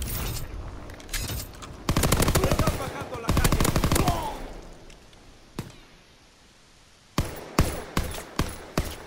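Strafing-run machine-gun fire in the World War II game Call of Duty WW2 rattles in loud, rapid bursts, fading between volleys, then ends in a string of single heavy shots.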